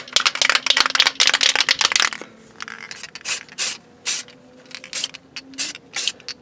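A rattle can of spray paint hisses onto a 3rd gen Camaro undercarriage, a dense spraying burst followed by a series of short, separate sprays close up, with no talking.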